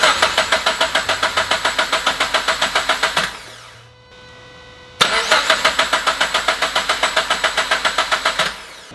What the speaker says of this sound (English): I'm gonna crank it over once or twice